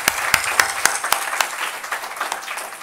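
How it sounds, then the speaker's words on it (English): An audience at a memorial lecture claps for the speakers, a few sharp distinct claps at first, then thickening into softer, denser applause. "One round of applause for all the speakers,"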